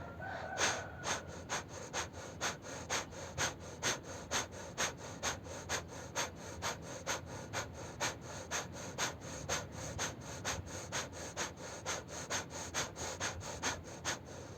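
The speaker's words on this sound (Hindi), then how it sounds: "तो आप मेरी सांसों की आवाज़ सुन पा रहे होंगे।" Rapid, forceful yoga breaths through the nose repeat in a steady quick rhythm, close up and with no talking.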